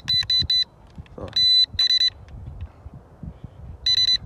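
Short electronic beeps from a Tomzon D28 drone remote controller in bursts: a rapid triple beep, then two longer tones, a pause, and another long beep, fairly loud over faint background noise.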